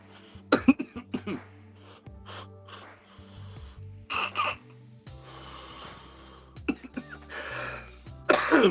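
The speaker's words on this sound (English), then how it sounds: "So I'm getting a bit of a cough out of it." Several harsh coughs and throat clearings come in bursts with gasping breaths between them, close and fairly loud against a quiet background.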